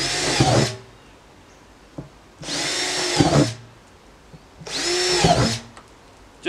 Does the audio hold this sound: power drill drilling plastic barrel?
yes